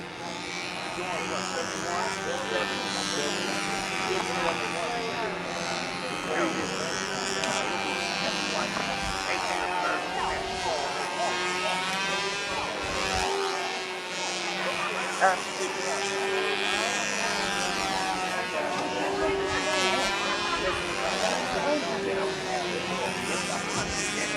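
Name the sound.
small half-A model airplane engine running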